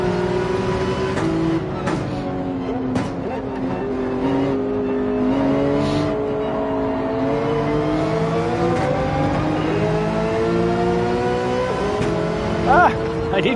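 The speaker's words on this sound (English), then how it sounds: "Look at these fast cars take off." Race cars accelerating and whining in Gran Turismo 7 at the Maggiore circuit, a steady layered engine drone with rising pitch sweeps of several cars pulling away, loud and continuous, with talk over it.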